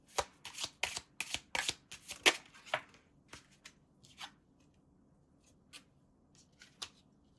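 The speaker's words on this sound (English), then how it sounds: "Okay, let's pull some more cards." Tarot cards being shuffled by hand: a rapid run of crisp riffling bursts at first, then sparser, softer flicks and taps as the deck settles, close and alone with no talk.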